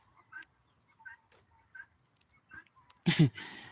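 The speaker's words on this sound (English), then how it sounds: "the chickens are interfering with the vegetables." Chickens in a farm vegetable plot give soft, scattered clucks and short calls, then a louder burst of squawking near the end, with quiet gaps between.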